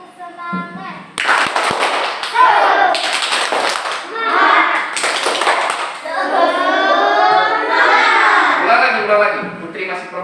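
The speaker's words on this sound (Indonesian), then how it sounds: "Putri, tepuk semangat supaya semangat." A classroom group performs a rhythmic spirit clap, with loud bursts of patterned hand claps alternating with children and an adult chanting and speaking.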